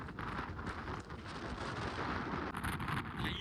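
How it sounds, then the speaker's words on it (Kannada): Strong wind roars steadily and buffets the microphone throughout, with a faint rustling hiss on top. "ಈ ತರ ಗಾಳಿ ಹೆಂಗ ಬರ್ತಾ ಇದೆ ನೋಡಿ"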